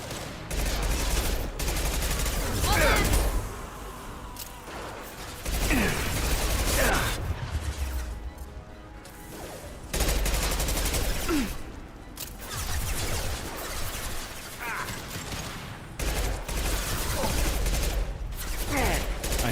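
Impact shot gunfire from a pistol in the video game Mass Effect 2, with sharp shots and mechanical clicks recurring through a busy, loud battle mix; a voice comes in between the bursts.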